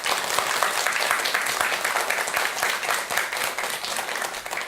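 Steady, dense applause from an audience at a Buddhist lecture, a continuous wash of many hands clapping at close range without pause for the whole stretch.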